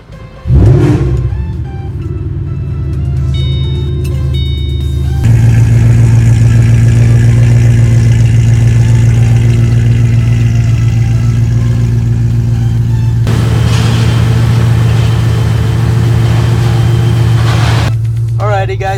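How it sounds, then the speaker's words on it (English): A loud straight-piped V8 engine of a 2008 Ford Mustang Shelby GT500 rumbles steadily, revving up from idle into a deep, sustained roar that holds near and powerful, with a brief quieter dip near the end. "this is a really loud car"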